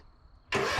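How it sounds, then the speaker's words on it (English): An Ariens IKON XD zero-turn mower engine turns over without the choke, a faint whine followed by a sudden loud, dense burst of cranking noise that runs to the end without catching. "If you just try to crank it without the choke, that's all it's going to do."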